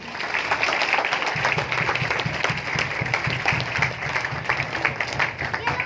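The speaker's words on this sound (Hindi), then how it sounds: "सबके लिए तालियां बजा दें" An audience claps and applauds steadily throughout, a dense, continuous patter of many hands at moderate loudness.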